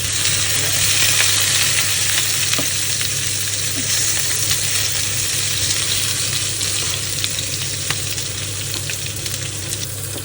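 Potatoes fry in butter in a pan, a loud, dense and continuous close-up sizzle with only occasional faint stirring clicks; no talking.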